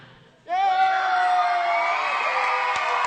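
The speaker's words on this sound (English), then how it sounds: "All of you that are cheering for Ottawa, cheer now." A school crowd of children at a hockey community event cheers and whoops for Ottawa, a sudden loud burst of shouting that holds steady after a brief quiet start.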